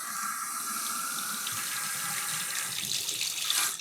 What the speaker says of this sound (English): go ahead and turn the water on.